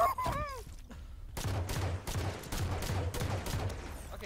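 In Halo 5 custom game action on the Breakout map Deadlock, rapid bursts of gunfire repeat in quick, dense volleys, preceded by a short descending electronic effect.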